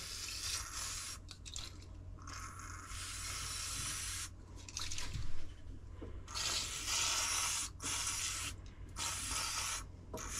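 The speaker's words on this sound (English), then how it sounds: "I can use some oxide cleaner on this connector down here" Oxide cleaner sprayed onto a connector in an old IBM AT 5170 computer: several hissing aerosol bursts of varying length, close and fairly loud, separated by brief pauses, with faint handling noise between them.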